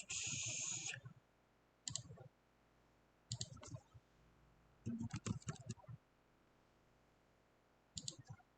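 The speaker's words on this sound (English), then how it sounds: "So I'll click on my place image tool." Computer mouse clicks while working in design software, a few soft sharp clicks in short separated clusters with quiet gaps between them, close and faint, with a brief burst of other noise at the start.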